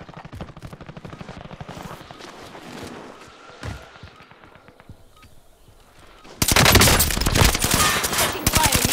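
Gunfire in the video game Call of Duty: Modern Warfare, rapid automatic bursts that thin out midway, then erupt into loud, dense, continuous firing for the final seconds.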